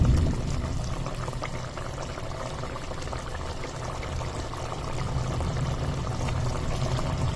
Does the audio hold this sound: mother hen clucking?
no